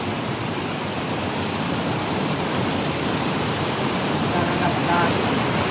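A strong current of floodwater rushes past a rock during Typhoon Uwan in Mindoro, a steady, loud, broadband roar with no clear breaks for the whole stretch.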